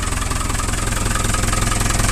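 An old JCB digger's engine, run without an air filter, idles close by with a loud, steady, rapid chugging throb and an even pulsing rhythm throughout.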